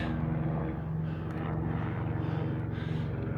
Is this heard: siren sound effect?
no